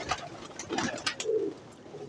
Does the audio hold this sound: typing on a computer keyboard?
no